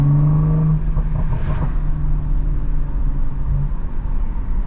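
A BMW M340i pulls hard under full throttle, its engine note climbing steadily before settling into a loud, sustained drone with road rumble.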